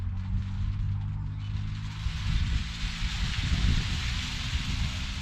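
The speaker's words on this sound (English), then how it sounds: "for those of you that don't know what a rainstick is, it sounds really cool" A rainstick tipped slowly gives a continuous soft hiss and patter like falling rain, steady and close, with a low rumble underneath that swells slightly toward the end.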